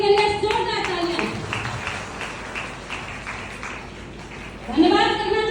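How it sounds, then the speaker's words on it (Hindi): An audience claps for the company's MD, Dr Sanjeev Kumar, at a company gathering. A steady patter of applause fills the middle stretch, and a voice speaks at the start and again at the end. "एक बार उनके लिए जोरदार तालियां।"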